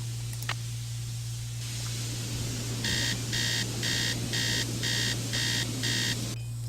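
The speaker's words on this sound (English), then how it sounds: "I hate this alarm sound." A digital alarm clock rings in the Nancy Drew game Treasure in the Royal Tower, a loud beeping in seven evenly spaced bursts over a low steady hum, after a quieter stretch.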